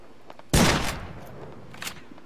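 M4A1 rifle gunfire in the video game Ring of Elysium, a single loud sharp burst of shots that decays quickly, followed by faint quieter reports, no talking.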